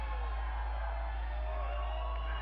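A large crowd at a video game press conference roars with cheers and whoops, loud and sustained throughout with no break.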